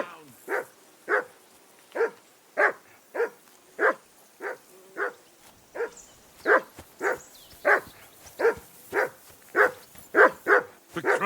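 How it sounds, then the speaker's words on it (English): A dog barks repeatedly in Kingdom Come: Deliverance II, about twenty sharp close barks in a steady rhythm, loud and largely alone. "Call off that damn dog before he wolfs down the last of our"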